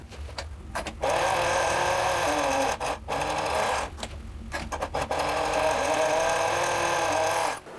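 A sewing machine runs steadily across a garment's outer edge, its stitching whir continuous and close, broken by a few brief stops near the start and in the middle.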